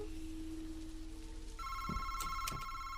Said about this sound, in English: Where's the damn phone? I hear it.